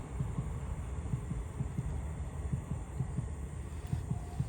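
A slow train passing close by, heard as a low, rhythmic thumping of wheels over rail joints beneath a steady rumbling hum, moderately faint and continuous.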